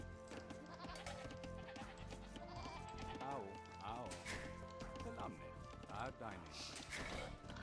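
Several sheep bleat in wavering cries over the busy soundtrack of Age of Empires II: Definitive Edition, a few calls standing out clearly in the middle and near the end.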